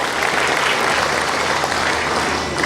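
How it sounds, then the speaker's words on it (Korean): An audience at an award presentation during a political party's year-end gathering applauds, a dense, loud, sustained clapping that fills the whole stretch without pause or talk. "큰 박수로 축하해 주시기 바랍니다"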